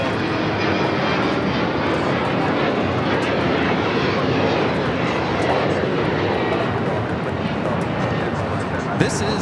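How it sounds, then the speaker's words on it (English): A Breeze Airways Embraer E190 jet takes off at Los Angeles airport, its engines a loud, broad, continuous roar that holds steady throughout. "This is Breeze Airways 6320 taking off to Columbus on the E190."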